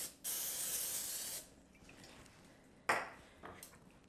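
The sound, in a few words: cooking spray on waffle maker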